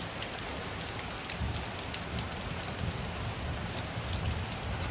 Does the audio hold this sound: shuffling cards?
no